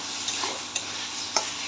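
Chicken keema filling stirred in a hot pan, steady sizzle with three sharp spatula scrapes against the metal, close and loud, no talking.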